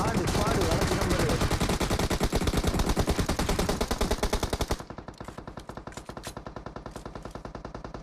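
Dense rapid automatic gunfire from a PUBG battle, a loud sustained burst that thins into a steady rhythmic stream of shots, with voices faintly underneath.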